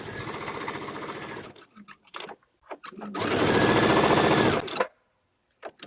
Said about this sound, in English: It's really not any different than just sewing with regular thread in your bobbin.